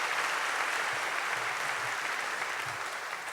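An audience at a live evening show applauds a keyboard player, a steady, moderately quiet spread of clapping with faint murmurs underneath, tapering slightly toward the end.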